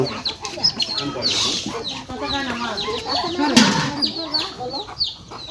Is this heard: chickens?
yes